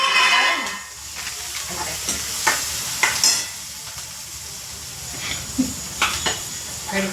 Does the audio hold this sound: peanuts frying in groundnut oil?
yes